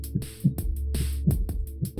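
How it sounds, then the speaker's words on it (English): Two slow, low heartbeats repeat alone in a vampire role-play story, each a paired thump, steady and close, with a soft hum underneath. "2 heartbeats"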